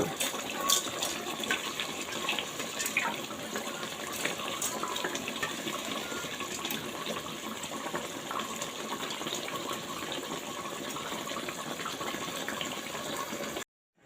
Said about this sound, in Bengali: ডালটা সিদ্ধ হওয়ার জন্য পরিমাণ মতো পানি দিয়েছি।